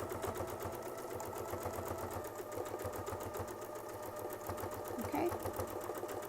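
A sewing machine stitches a quilt border with a Westalee sampler template, running steadily at an even, rapid mechanical pulse throughout, close and continuous, with no talking over it.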